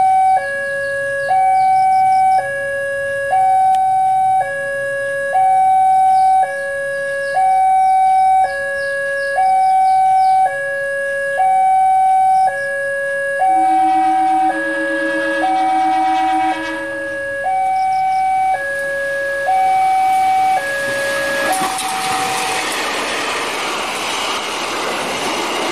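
A loud repeating two-tone horn melody plays in a steady looping pattern, then a broad roaring rush builds toward the end as the Serayu passenger train, hauled by a CC203 locomotive, passes close by a small halt in Ciamis.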